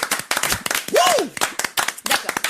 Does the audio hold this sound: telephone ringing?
no